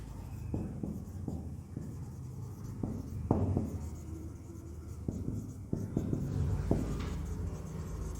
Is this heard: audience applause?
no